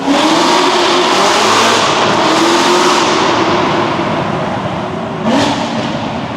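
A Corvette ZR1 engine roars loud and close through a sustained first-gear power pull, pitch climbing then dropping, with a sharp shift-like burst near the end.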